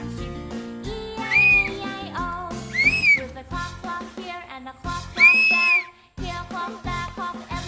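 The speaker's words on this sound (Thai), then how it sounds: "เป่านกหวีดเป่านกหวีดเรียกน้องดิ" A child blows a toy whistle outdoors, giving three rising, piercing toots spread over several seconds, heard over constant talking and background chatter.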